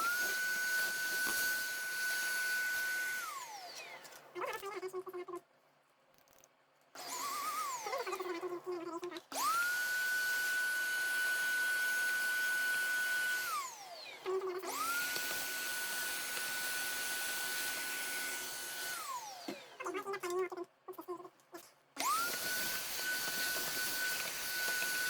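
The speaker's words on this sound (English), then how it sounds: "So here's our pet overpowered vacuum cleaner." A high-pitched vacuum cleaner whines as it spins up, runs, then winds down, cycling on and off several times with brief quiet gaps.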